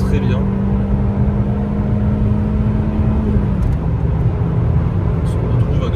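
A Ford Cougar 2.0i 16v coupe driving with a slipping clutch: a steady, close engine drone with a held tone that drops slightly partway through, running without a break.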